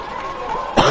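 A single loud, harsh cough bursts out near the end, close to the mic, over a hockey play-by-play commentator's steady talk and rink noise during a junior hockey game.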